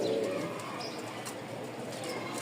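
Racer and fantail pigeons cooing in a loft, a soft low cooing near the start amid faint chirps and rustling, quiet and somewhat distant, with no talking.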